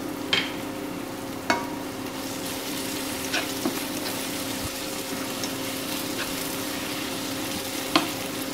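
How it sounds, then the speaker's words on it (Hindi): About a quarter teaspoon of cumin seeds sizzles steadily in hot oil while frying for karela chutney, a close, even hiss broken by a few faint pops and stirring clinks. "अब इसमें हम साथ ही साथ इसके ज़ीरा डाल देंगे"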